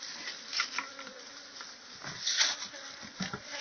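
Bees buzzing around a person harvesting honey, several insects droning close by in overlapping, wavering passes that swell and fade, with soft handling noises underneath.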